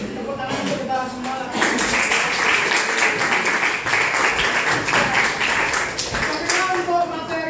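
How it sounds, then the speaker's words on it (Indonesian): Students in a classroom break into applause, a broad clatter of clapping that swells after a moment and holds for several seconds before thinning, with tonal sound at the start and end. "Tepuk tangan untuk kita semua."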